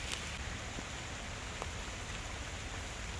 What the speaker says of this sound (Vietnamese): trời mưa quá nha